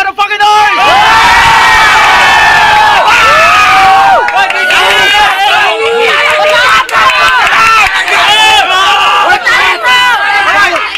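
Loud crowd at a rap battle in Cotabato roaring, cheering and shouting continuously, with excited voices and yells rising and falling throughout.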